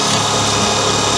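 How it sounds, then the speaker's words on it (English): A power drill runs continuously with a steady whining motor, boring into the door of a flatbed trailer, loud and close. "I don't have the best drill, but I bought this drill"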